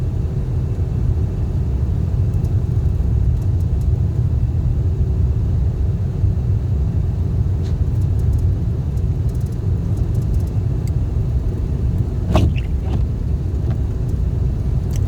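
Cars driving along a snowy road in Yakima, Washington: a constant loud low rumble of passing traffic and tires, with a brief sharp click or clatter near the end.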